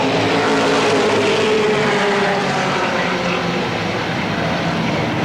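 Race cars roar together at Motordrome Speedway in a steady, dense engine drone, heard from a distance in a wide outdoor setting with no voices over it.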